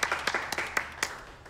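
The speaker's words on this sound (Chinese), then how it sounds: "掌声欢送胡司令" Scattered hand claps ring out in a sparse, uneven series as a small group sends off Commander Hu, a handful of sharp, close claps spaced apart rather than a full ovation, fading out at the end.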